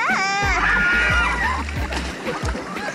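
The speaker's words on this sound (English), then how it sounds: "I'm pretty sure everyone's conspiring to hit the other boat with the water that's in this bucket." Water splashes and sloshes as a bucket is flung between boats on a river outing in Bonito, Brazil, several thumping splashes close by, mixed with excited voices and shouting.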